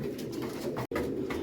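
Pigeons coo in a breeder cage, a steady low murmur of overlapping coos running throughout, close and continuous apart from a brief gap near the middle.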